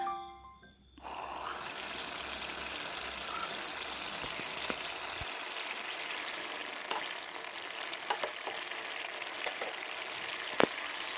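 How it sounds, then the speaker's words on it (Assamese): Chicken cooked with yoghurt sizzles and bubbles steadily in a pan after a splash of hot water goes in, a soft continuous frying hiss with occasional small pops and no voices. "এতিয়া মই ইয়াত অলপ গৰম পানী দি দিম।"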